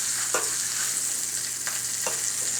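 Sausages frying and browning in a hot pan, a steady broadband sizzle with a few brief clicks of utensils against the pan, close and even throughout.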